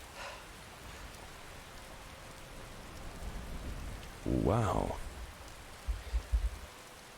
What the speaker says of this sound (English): really gotta appreciate the thunderstorms